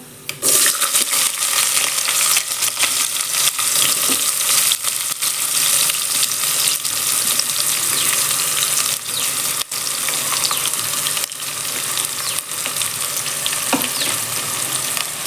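Onions sautéing in hot oil in a pan, a loud continuous sizzle and crackle with occasional stirring scrapes, steady throughout with no voices.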